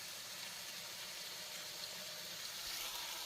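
Edamame tipped into a hot pan, giving a steady broadband sizzle with a watery hiss that holds at an even level throughout, alone with no voices.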